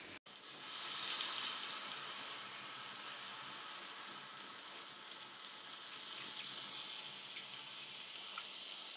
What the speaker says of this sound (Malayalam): വെള്ളത്തിലിട്ട് വെച്ച പുളി ഇങ്ങനെ ജസ്റ്റ് ഒന്ന് കൈകൊണ്ട് തന്നെ പിഴിഞ്ഞെടുത്ത് അതിൻ്റെ വെള്ളം മാത്രം ഒഴിച്ചു കൊടുക്കാം.